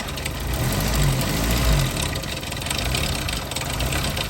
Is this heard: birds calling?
no